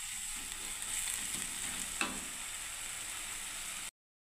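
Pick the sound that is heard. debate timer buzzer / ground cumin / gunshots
ground cumin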